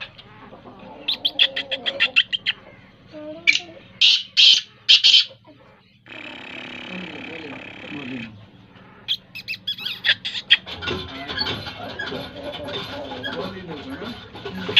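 A black francolin (kala teetar) gives loud, repeated harsh calls in bursts, with someone talking between and over them and other birds faintly around.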